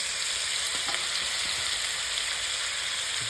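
Ginger garlic paste frying with onions in a pan for an Assamese pork dish, a steady close sizzle with a few faint stirring scrapes and no talking.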